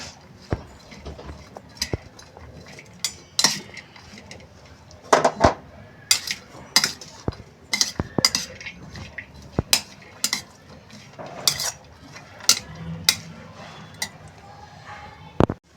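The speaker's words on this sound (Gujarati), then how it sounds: "મકાઈના દાણા બાફેલા પહેલાં તો આ બધું બરાબર મિક્સ કરી દેવાનું છે" Boiled corn and vegetables are mixed for a veg mayo sandwich filling, heard as irregular clinks and scrapes of a spoon against a bowl, close and fairly crisp, with no speech.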